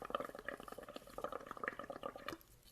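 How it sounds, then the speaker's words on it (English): Someone blows through a straw into a cup of bubble paint, producing a quick run of soft bubbling gurgles and pops that stop abruptly near the end. "I'm going to blow my bubbles so they're nice and big."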